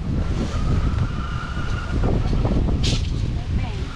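Strong wind roars and buffets the microphone while waves surge continuously in the background, loud and steady throughout.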